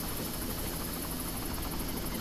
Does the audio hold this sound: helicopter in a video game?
yes